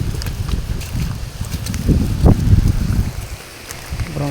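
Strong gusts buffet and rumble across a phone microphone, with patter of rain mixed in, loud and close throughout.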